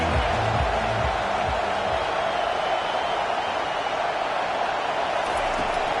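Football stadium crowd at a Texas vs LSU game, a dense, sustained roar of many voices filling the space evenly throughout.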